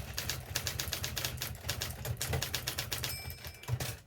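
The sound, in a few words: Imperial (rebadged Adler) electric typewriter operating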